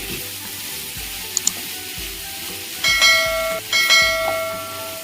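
Amaranth greens and moong dal stir-frying over a high flame, with a steady sizzle, bursts of scraping and clinking from stirring in the pan, and no talk.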